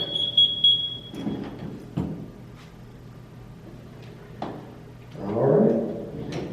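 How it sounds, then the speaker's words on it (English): A firefighter SCBA air pack alarm gives a brief, shrill, high electronic tone at the start. It then falls silent, and scattered clunks and rattles of handled gear follow nearby. "Turn the packs off so that they don't keep alarming."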